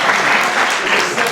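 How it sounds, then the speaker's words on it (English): Dense, steady applause from an audience at a speaker series event fills the whole moment at a loud level, with no break in the clapping. "Yes, applause."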